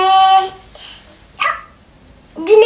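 A child imitating a dog's bark with voiced woof-like yelps, loud and close, in short bursts broken by quieter pauses.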